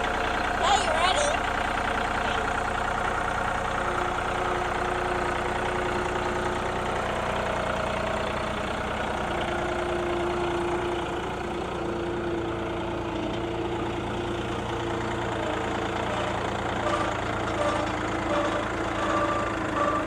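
A John Deere 3025E compact tractor engine idles with a steady, loud, low rumble for the full stretch, and voices speak briefly over it.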